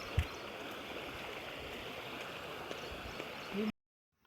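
Water from a river rushes in a steady broad wash, close and continuous until it cuts off abruptly near the end.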